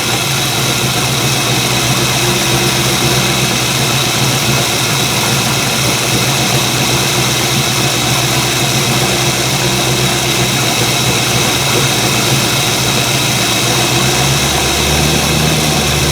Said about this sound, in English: Crank the idle up a little bit, get the space burn off.